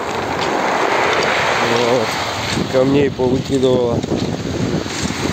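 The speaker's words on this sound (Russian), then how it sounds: "море штормит" A stormy sea at a pebbly beach on a cool May day, with a constant loud rush of surf and gusting wind buffeting the microphone while someone speaks over it.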